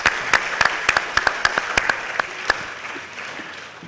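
Applause at a school information evening, with sharp, distinct claps standing out over a lighter crowd clapping that thins out and fades toward the end.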